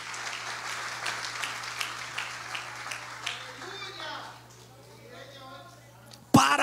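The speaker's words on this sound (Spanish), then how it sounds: "denle un aplauso a Jesús." Church congregation applause during an evangelical service, a brief burst of clapping that fades within about three seconds, followed by a voice speaking and a loud bump at the end.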